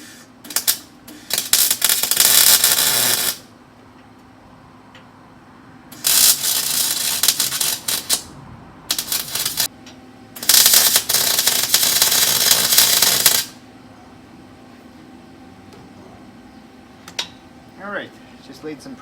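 Tack welds are laid on an engine mount for a 1954 Henry J gasser build, heard as a few loud, crackling bursts of welding, each a few seconds long, separated by quiet workshop pauses.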